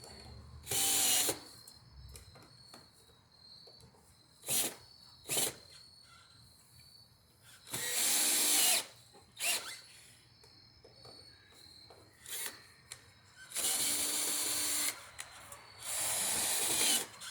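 A power driver tightens screws into aluminum, whirring in repeated short bursts, several brief runs and a few longer ones, separated by quiet pauses, close by.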